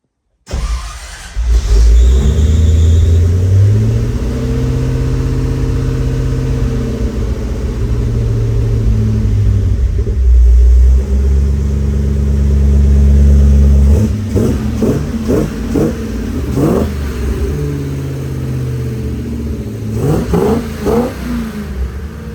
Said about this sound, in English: It's just not too loud, but it has that good V8 rumble